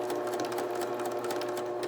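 A sewing machine runs continuously, stitching a handwoven camera strap with a steady, close mechanical whir and rapid needle chatter, without any talking.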